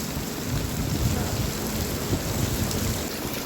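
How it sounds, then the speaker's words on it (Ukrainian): Heavy rain pours steadily at an outdoor market, producing a dense, constant hiss close by with no talk and no breaks. "Боже, сегодня такой доща."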